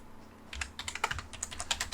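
Computer keyboard keys tapped close up while running the AutoCAD rotate command, about a dozen light, quick clicks in an uneven burst with no talking.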